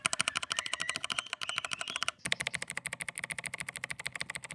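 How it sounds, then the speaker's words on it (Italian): Fast typing on an 8BitDo Retro mechanical keyboard gives a dense run of crisp, moderately clicky keystrokes, close up and alone, with one brief pause midway. "un po' più clicky, perché il click si sente, ma non è così tanto elevato come quello delle prime tastiere meccaniche"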